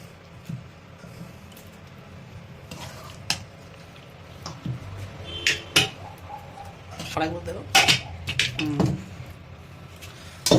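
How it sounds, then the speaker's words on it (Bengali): Mutton and potatoes being scraped and spooned from a pan into a pressure cooker for Bengali mutton curry, with scattered metallic clinks and clatters of utensils against cookware, some sharp knocks, over a quiet kitchen background. "আর এগুলোকে মাংস আলু এগুলো সব দিয়ে দিচ্ছি এই প্রেশার কুকারের মধ্যে"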